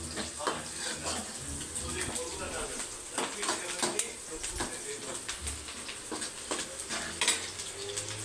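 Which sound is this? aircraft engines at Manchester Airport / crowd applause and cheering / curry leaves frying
curry leaves frying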